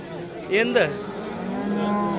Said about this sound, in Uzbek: Mana buzoqlar har turidan bor.